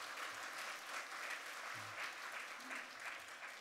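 A church congregation at a Korean Full Gospel Sunday service applauds to welcome a visiting pastor, a faint, steady wash of clapping heard from a distance with no voices over it.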